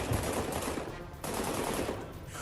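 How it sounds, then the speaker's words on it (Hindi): Semi-automatic handgun gunfire outside a metro station during an attack in Washington DC, dense sustained loud bursts that dip briefly at mid-clip before resuming, with a faint voice. "अचानक अपनी गन निकालता है और ताबड़तोड़ गोलियां चलाना शुरू कर देता है।"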